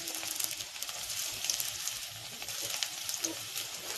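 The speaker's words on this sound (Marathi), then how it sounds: "आणि तेल गरम झाल्याच्या नंतर मी पहिले कांदा परतून घेणार आहे." Onion frying in hot oil, a faint, crackly sizzle with light spitting pops holding steady at low volume, no voices.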